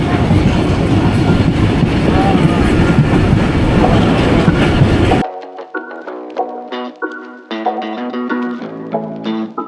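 The Dhalarchar Express intercity train runs on rails through village country from Pabna toward Rajshahi, with a loud, close rumbling clatter for about five seconds before cutting off abruptly into a series of melodic tonal notes.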